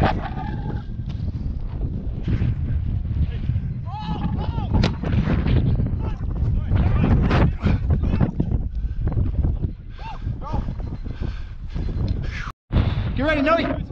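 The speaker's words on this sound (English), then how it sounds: "Fucking wind." Heavy wind buffets the microphone outdoors, a continuous loud rumbling roar throughout with shouted voices calling out over it, during a weekend pickup football game.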